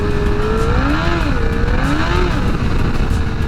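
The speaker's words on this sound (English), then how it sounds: "It's literally spinning the back tire." A 2019 Honda CBR1000RR being rebuilt after a wreck revs hard with its rear tire spinning. The engine howl is loud and close, with a sweeping pitch that rises and falls in steady waves.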